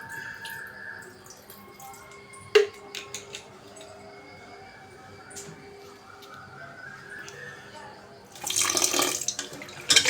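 Pork tripe is washed with vinegar under a running tap: soft splashing and handling noises, one sharp clatter, then a louder gush of running water near the end.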